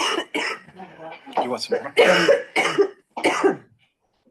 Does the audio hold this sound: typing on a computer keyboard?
no